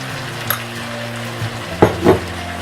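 Chicken sautéing with an onion-coconut masala paste for Malvani chicken sukka sizzles steadily in the pan, broken by a few utensil scrapes and clanks against the pot, with no talking.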